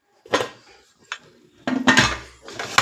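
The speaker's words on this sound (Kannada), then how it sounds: "ಕುಕ್ಕರ್ ಮುಚ್ಚಳ ಮುಚ್ಚಿಬಿಡೋಣ." Metal clanks and scrapes of a pressure cooker lid being fitted and shut on a kitchen stove, with a salted chicken and water mix inside; several short, close knocks, the last ones louder, with no talk.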